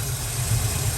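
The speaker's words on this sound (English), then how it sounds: "Freaking fan sounds like a supercharger." A steady, droning whine from the engine cooling fan of a Z28, running continuously and close, with a low rumble beneath it and no talking.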